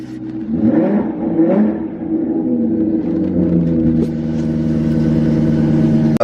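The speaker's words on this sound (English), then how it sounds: "here's a nice little cold start rev" A BMW E36 M3 engine is started cold and revved. Loud, close revs rise and fall twice, then the engine settles into a steady, slightly lumpy high idle before cutting off abruptly.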